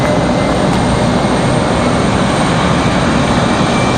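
A Delta airliner jet near the end of a runway at Raleigh-Durham International, producing a loud, steady broadband engine roar that holds constant throughout without any voices.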